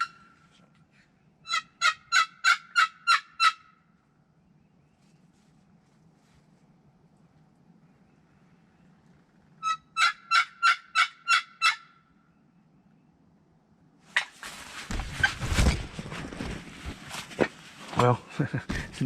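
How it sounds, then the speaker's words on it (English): Wild turkey gobbles at a spring hunt in Illinois, two clear rattling bursts of rapid notes separated by quiet, followed by louder rustling and handling noise near the microphone. "I'm not real sure where that was at, but one gobbled"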